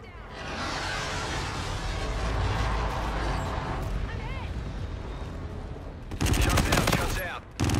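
An aircraft gun run in Call of Duty: Infinite Warfare rumbles as a sustained roar of rapid fire under radio chatter, ending in a loud, dense burst of shots near the close.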